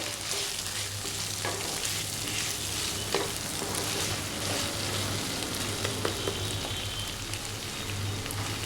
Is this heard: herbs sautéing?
yes